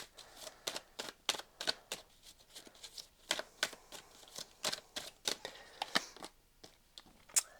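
Tarot cards shuffled by hand during a reading: a quick run of crisp riffling flicks and soft slaps, close and fairly quiet, with no talk over them.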